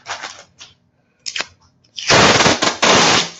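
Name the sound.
roll of tape being pulled off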